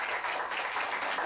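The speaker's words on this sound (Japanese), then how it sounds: "100人以上の職員らが拍手で出迎える中" More than a hundred municipal staff clap steadily to greet a newly elected city mayor arriving at city hall, a dense, continuous patter of many hands close by.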